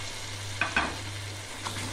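Chopped onion sizzling in a pan as vegetables go in one at a time for chicken macaroni, with a couple of brief stirring scrapes over a steady low hum, no talking.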